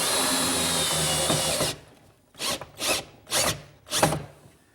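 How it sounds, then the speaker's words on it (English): Power drill driving screws from the inside to secure a plywood kitchen island cabinet. A steady whir is followed by four short, separate bursts of drilling, close and loud, with no talk. "secure it by driving some screws from the inside"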